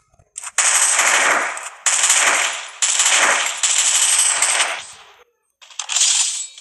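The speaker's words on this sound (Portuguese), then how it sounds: "Vamos ver se eu consigo dar um tiro." Video game gunfire rattles out in several rapid automatic bursts, loud and close, separated by short gaps, with no talk over it.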